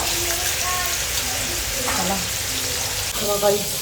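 Fish frying in oil in a home kitchen pan, a steady close sizzle running throughout with a few brief stirring or handling noises and faint voices in the background.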